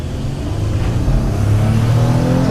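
A 2014 Toyota Sienna minivan engine revving hard during a 0-60 acceleration run, a steady loud drone with its pitch climbing as the van speeds up, heard close from inside the cabin.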